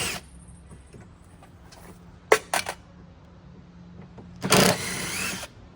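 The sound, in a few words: drill removing self-drilling Torx screws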